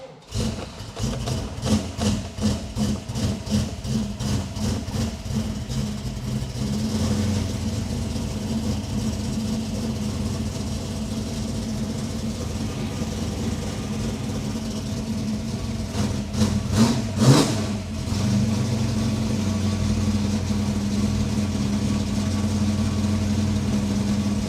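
A 1980 Ford XD Falcon with a 351 V8 and manual gearbox cranks with a rapid chugging rhythm, catches and revs, then settles into a loud, steady idle, with a second burst of revving partway through.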